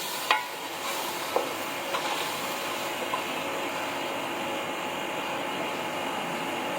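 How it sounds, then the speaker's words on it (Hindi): Potatoes sizzle in a pot of aloo gosht over high heat, a steady broad hiss filling the clip, with a few soft knocks as the mix is stirred at the start; no one speaks. "अब इसके अंदर हम डालेंगे आलू और इसे मिक्स कर लेंगे।"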